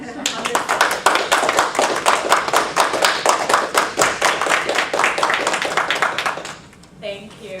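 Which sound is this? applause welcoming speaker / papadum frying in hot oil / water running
applause welcoming speaker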